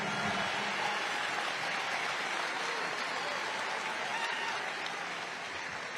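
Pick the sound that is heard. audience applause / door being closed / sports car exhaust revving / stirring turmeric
audience applause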